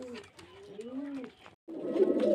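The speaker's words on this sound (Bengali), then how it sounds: "পায়রাগুলো হচ্ছে চকলেট কালারের পায়রা" Chocolate-coloured pigeons at a sale coo in soft, rising and falling low calls, fairly close. After a short gap, a louder burst of rustling and coos follows.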